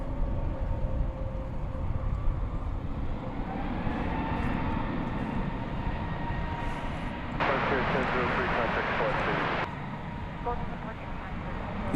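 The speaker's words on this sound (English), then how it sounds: "Yonder goes American Flight 1430 to San Francisco. It's an Airbus A321 of the Neo variety." An American Airlines Airbus A321neo jet at Dallas/Fort Worth airport at night, a continuous distant engine roar with a hissing rise partway through, heard outdoors with steady background noise.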